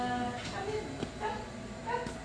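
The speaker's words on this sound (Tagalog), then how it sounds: "Pasensya na kayo guys, ang ingay ng aso." A dog indoors gives a few short whimpering yips and soft barks, spaced about a second apart. It sounds moderately close and is heard over a steady background hum.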